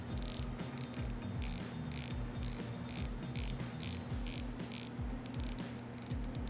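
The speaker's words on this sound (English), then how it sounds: "the bezel clicks are a joy to hear on this one" Unidirectional bezel of a Viqueria Calipso GMT, an Italian diver-style microbrand watch, turned click by click, giving a steady run of crisp, close ratcheting clicks in quick bursts with brief pauses, no talk.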